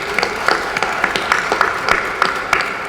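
Audience applause at the 2022 JA Business Hall of Fame event: a steady crowd clapping with dense, irregular hand claps that hold at an even level throughout, with no talking over it.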